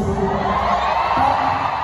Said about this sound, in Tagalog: Kasi ang lakas ng hiyawan ng mga blues.